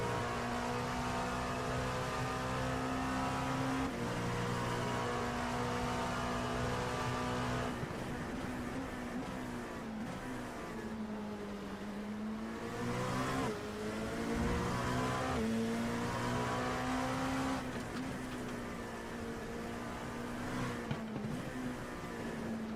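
Race cars at Zandvoort during a four-hour endurance race, engines roaring continuously and shifting pitch as they brake and downshift rapidly at the end of the straight, loud and sustained with several cars passing in succession.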